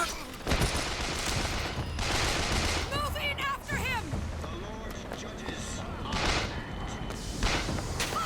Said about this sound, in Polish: Co nas strzela w takim razie?